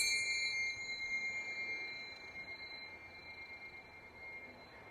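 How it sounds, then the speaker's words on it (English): A bell struck once to open a kids yoga class, its bright ringing tone decaying slowly over several seconds with no talk over it. "we start with the sound of the bell that indicates the class has started"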